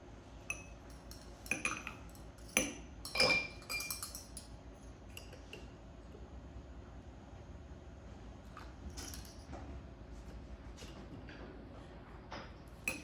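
A metal spoon scrapes the grounds off Indonesian coffee in a cupping bowl, giving a few sharp clinks and scrapes early on before things settle into quiet room tone; nobody talks.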